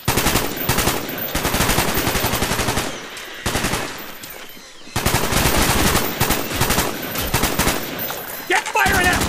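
Rapid automatic gunfire in the video game Call of Duty: Black Ops, loud sustained bursts that break off briefly and resume, with shouted voices mixed in.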